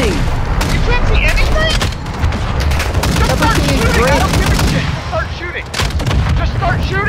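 Heavy gunfire from an MRAP armored vehicle crackles and booms without a break, with dense overlapping shots and bursts filling the whole stretch. Shouting voices are mixed in under the shooting.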